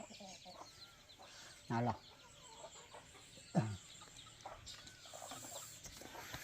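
A chicken clucks outdoors, giving two sharp, loud calls a couple of seconds apart over faint background noise, with people talking briefly nearby.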